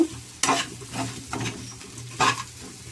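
Bitter gourd and dried fish frying in a pan with curry leaves, a steady close sizzle broken by a few sharp bursts of stirring and scraping, with no voices.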